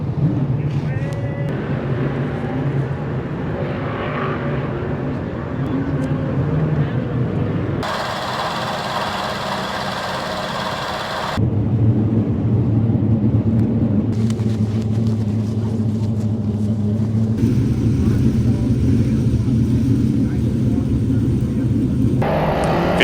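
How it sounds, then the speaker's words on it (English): Race cars thundering around Albany-Saratoga Speedway: a continuous loud engine roar that swells and changes character in abrupt sections as the field passes. "Field comes by, green flag is out on the speedway."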